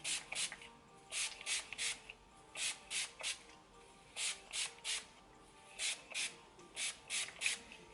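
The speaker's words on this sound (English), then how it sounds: "I use a spray bottle and I put water into it, and now I'm going to be spraying my hair." A handheld spray bottle mists water onto relaxed hair in quick, close, fairly soft bursts, about fifteen short sprays in uneven pairs and runs.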